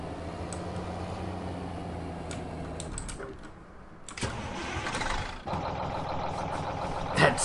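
A heavy JCB tractor engine in Farming Simulator 2015 rumbles steadily, cuts out briefly, then revs back up with mechanical clunks and a sharp burst near the end.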